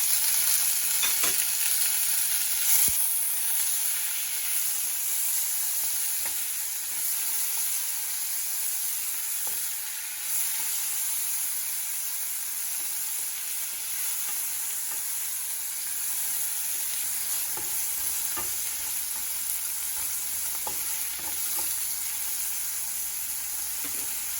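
Tomatoes fry with a steady, bright sizzle in a pan for sambar, with occasional soft scrapes and clicks from stirring. The hiss stays even and close throughout, with no talking.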